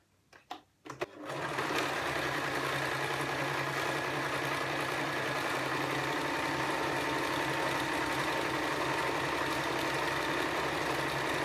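A sewing machine runs steadily as it top-stitches the handle of a fabric shopping bag. A few soft clicks come first, then a continuous, even mechanical whir carries on alone without pause.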